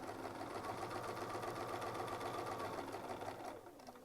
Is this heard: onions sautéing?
no